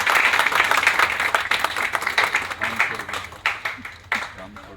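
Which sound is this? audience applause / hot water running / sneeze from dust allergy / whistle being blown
audience applause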